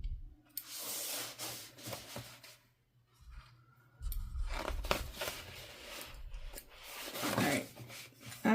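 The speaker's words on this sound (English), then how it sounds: "I'm going to cut my strings." Scissors snipping and tugging sewing thread ends during a sewing project, close and quiet with several short cuts and rustling fabric handling between them.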